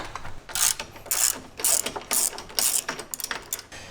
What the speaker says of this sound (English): remove the bolt securing the CB bar to the roll bar, and you're going to need to use a 1/2 inch wrench for that